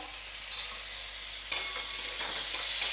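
Cumin powder, coriander powder and half a spoon of chili paste sautéing in a pan for a spring onion curry: a steady, bright sizzle broken by a couple of sharp stirring scrapes.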